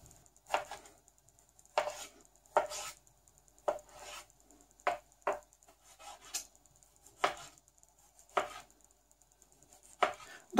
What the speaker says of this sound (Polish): W międzyczasie obranego pomidora drobniutko kroimy.